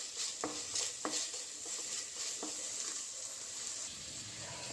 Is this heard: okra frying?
yes